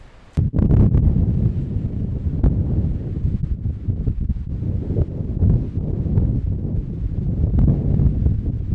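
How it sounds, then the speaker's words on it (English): Strong, gusty storm wind roars and buffets the microphone continuously, loud and close, with no talking. "It's still super windy."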